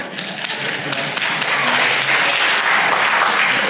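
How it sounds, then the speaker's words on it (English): An audience bursts into sustained applause during a reverend's talk, a dense, loud clapping roar that continues evenly throughout. "this is where you can applaud that"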